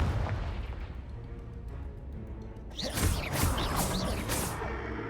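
A Confringo spell blast in Hogwarts Legacy erupts midway as a loud, sharp burst, followed by crackling, booming debris over a dense, rumbling game background.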